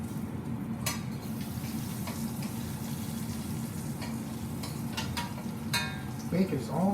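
Bacon frying in a pan at home, a steady close crackle and sizzle with occasional clinks of a utensil stirring.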